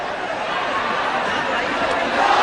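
Boxing arena crowd during a professional fight, a steady wash of murmuring spectators and chatter that swells slightly toward the end, with a commentator's voice over it.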